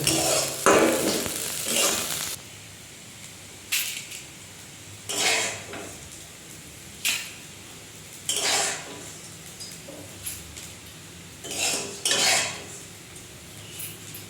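Metal spoon scrapes and clinks against a pan as fried Gobindobhog rice is scooped out, in bursts of several strokes with short pauses between, close and moderately loud, no talking.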